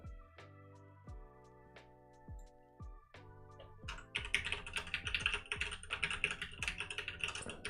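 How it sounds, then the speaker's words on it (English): A password being typed on a computer keyboard, sparse separate key taps at first that give way to a fast, dense run of clicking keystrokes, close and clear. "Typing in my password. You can hear my password."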